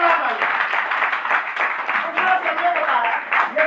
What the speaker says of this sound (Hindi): तो एक जोरदार ताली आपने, जोरदार ताली